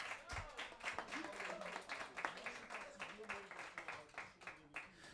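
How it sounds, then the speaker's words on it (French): An audience at a jazz rock discussion event claps in a sparse, fairly faint patter of individual hand claps, with voices talking alongside. "On peut l'applaudir aussi."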